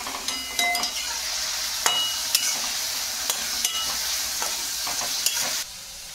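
Fried rice seasoned with soy sauce sizzles steadily in a hot pan while a spatula stirs it, producing scattered sharp metallic clinks and scrapes over the hiss until the sound drops off near the end.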